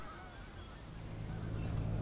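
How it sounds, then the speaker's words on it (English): Geese honk noisily outdoors in an Alberta spring, a dense chorus of overlapping calls mixed into steady broadband ambience that grows slightly louder toward the end. "all these noisy local geese will be joined by their migrating cousins coming from the south"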